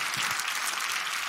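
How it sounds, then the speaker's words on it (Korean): An audience at a crowded church gathering claps, with dense, steady applause filling the room throughout and no pauses. "자, 우리 장로님 박수하겠습니다."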